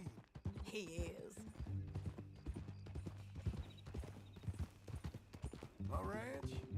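Horse hooves clip-clop at a walking pace in Red Dead Redemption 2, steady clopping running beneath a conversation between two men, with a horse snorting or whinnying near the start and end.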